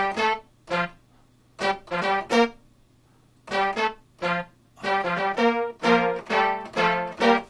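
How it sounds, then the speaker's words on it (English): A MIDI sound module plays a synthesized horn section in short, punchy brass stabs. They come in a syncopated rhythmic phrase, with brief gaps between groups and a denser run of stabs toward the end, with no talking. "if I just played that using a horn section sound"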